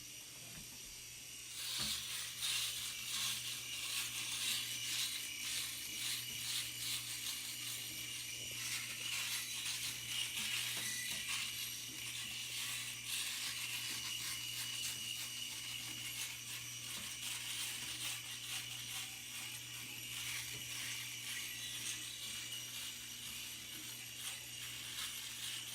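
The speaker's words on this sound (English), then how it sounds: "It is a really cool looking razor, but let's see if it's really up to my current champion." A Philips Norelco SW9700 electric razor runs steadily against a face, giving a continuous close buzzing hum with a fine crackling texture of stubble being cut, unbroken for most of the clip with no talking.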